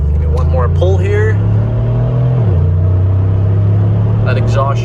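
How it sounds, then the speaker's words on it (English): Mercedes G550 4x4 Squared engine revved hard, a loud deep exhaust drone that rises and holds steady across the clip, with voices talking over it. "That exhaust sure does sound good"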